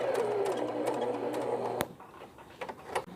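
A sewing machine stitches piping onto the pleated neckline of a baby frock, a close rapid whirring hum with a rising motor whine that stops abruptly, followed by light handling clicks and rustles.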